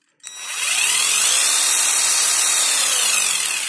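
Ryobi R18IW3 cordless impact wrench spinning freely, its motor whine starting abruptly and rising as the trigger is squeezed, then holding a loud, steady high-pitched drone close by.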